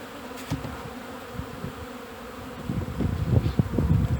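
Honeybees buzz around the hive on their spring cleansing flight, a dense continuous drone with individual bees zipping past the microphone, growing louder and busier toward the end.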